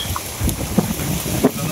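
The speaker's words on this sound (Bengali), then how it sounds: "নদীর পাড়ে বিরাট বাতাস" Strong wind on a riverbank buffets the microphone with a steady low rumble and a few brief gusty thumps over under two seconds.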